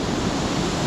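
Hareshaw Linn waterfall pouring over a large drop, a loud, close, unbroken rushing roar of falling and splashing water.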